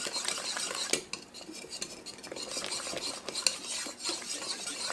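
Thickening chicken spaghetti sauce made with home-canned chicken scraped loose from the bottom of a dish, with repeated close metal-on-pot scrapes and clinks over a soft background hiss.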